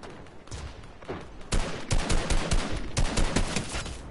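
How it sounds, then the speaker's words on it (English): Rapid gunfire in an online shooter game crackles in bursts of overlapping shots, loud and fairly dense, growing heavier after the first second and continuing steadily to the end. "someone's shooting me"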